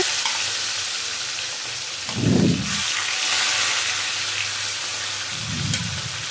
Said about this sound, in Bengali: আর এখানে আমি একে একে মাছটি ভেজে নিচ্ছি